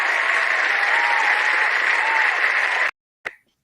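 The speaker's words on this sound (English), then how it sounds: "Let's just do a little round of applause for that" A round of applause from a small group fills nearly three seconds with steady, bright clapping, then cuts off abruptly before one short trailing burst.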